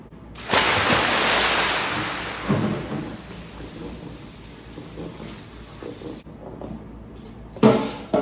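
Tap water gushes while chicken is washed in a kitchen sink, a loud close rushing burst that fades into a softer trickle. Splashes and clunks follow, with no talk.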